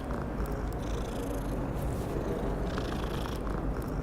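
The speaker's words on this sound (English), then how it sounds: "Hey kitty." A cat purring in the Hogwarts Legacy video game, a steady close rumbling purr that continues throughout over a faint game background.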